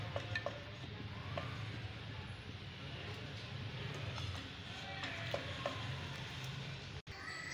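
Achar gosht, a goat mutton salan in a pickle-spiced masala, is ladled out of a home cooking pot, with faint scraping and clinks of a spoon against metal over a steady low kitchen hum.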